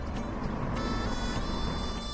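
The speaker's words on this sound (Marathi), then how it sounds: "अगं इथं गाडीचा आवाज येतोय" A car on the road gives a steady, moderately loud rumble of traffic noise that holds evenly throughout, with no distinct pass-by swell.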